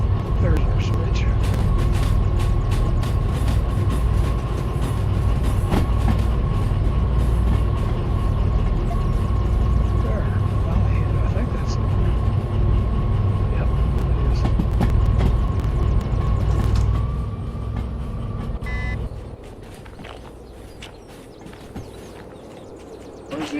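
A freight train with a caboose rolls over the rails at night in the DV Sim railway game, a steady, loud rumble with a clicking rhythm that softens and fades toward the end.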